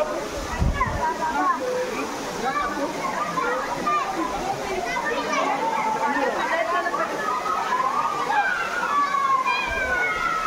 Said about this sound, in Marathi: आलोय धबधब्या खाली, जरा पाणी घ्या अंगावरती